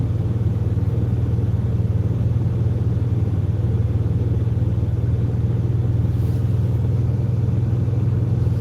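A van's engine idles with its exhaust running, a steady, even low rumble that holds close and unbroken with no talk over it.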